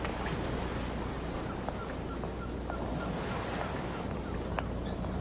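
Steady surf rolling onto the shore at sunset, a broad continuous wash of breaking waves mixed with wind rumble, loud and unbroken from start to finish with no voices.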